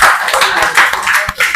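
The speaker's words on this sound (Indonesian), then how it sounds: "beri aplaus untuk kelompok keempat" Audience clapping for a fourth presenting group at a classroom session, a dense, loud, close patter of many hands sustained throughout.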